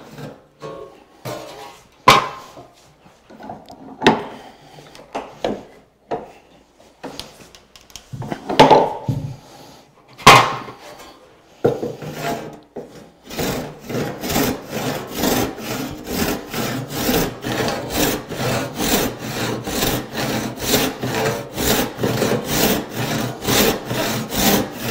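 A hand saw cuts across the end grain of a board clamped upright in a vise, first in scattered short strokes, then in a steady, rapid back-and-forth rhythm of rasping strokes, close and loud with no talking.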